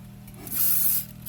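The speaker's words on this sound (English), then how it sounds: "spray my casserole dish down with some cooking spray" One short hissing burst of cooking spray coats a casserole dish, rising quickly, holding for about half a second, then cutting off, close and clear over a quiet kitchen hum.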